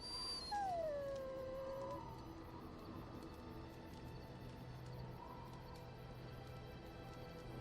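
A dog in the Dragon Age: Origins video game lets out a rising then falling howl that tails into soft whimpers, moderately close over a steady low ambient game hum, with no talk.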